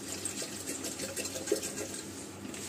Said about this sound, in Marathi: सो केटलमध्ये मी पाणी टाकते आधी